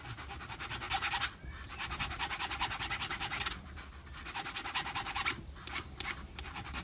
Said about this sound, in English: Let's give this fine first timer file a go.